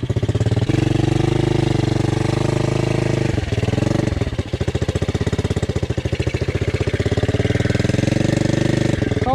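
A Loncin 110/125 enduro motorcycle engine runs loud and close at steady high revs as the rear wheel spins in mud, with a brief dip in the drone midway before it picks up again.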